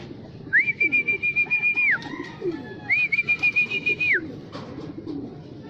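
A bird gives two long, steady whistled calls separated by a short gap, clear and fairly close against a soft murmuring background.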